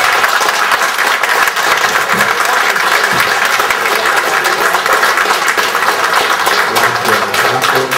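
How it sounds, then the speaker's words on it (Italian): Sustained, dense applause from an audience at a conference, steady and loud throughout with no break, many hands clapping at once. "vi prego di continuare l'applauso"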